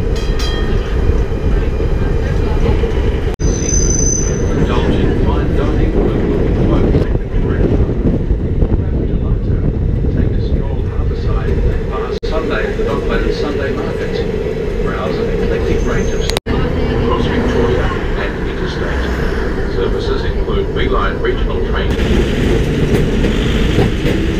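Old tram riding through Port Melbourne, Australia, heard from onboard: a continuous loud rumble and rattle of wheels on rails with wind buffeting and occasional sharp clunks, while voices talk over it.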